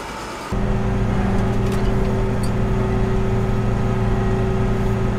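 The engine of a 1970s combine harvester working a corn field drones loud and steady, close by, after a rise in level near the start.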